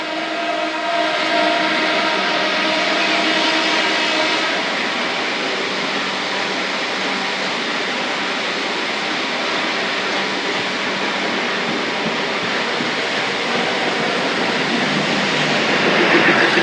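A Siliguri-bound DEMU train rumbles at Sivok station, a steady broad roar that holds throughout and swells slightly near the end.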